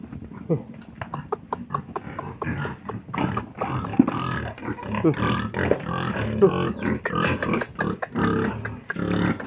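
Pigs grunting as they are fed, a run of close, loud, irregular grunts and snorts that come in quick bursts over roughly ten seconds.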